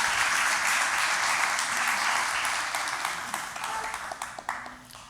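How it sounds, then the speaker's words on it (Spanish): An audience at a sermon applauds for Oscar, a dense, moderately loud wash of clapping that thins out toward the end into a few separate claps. "Un aplauso para Oscar ahí."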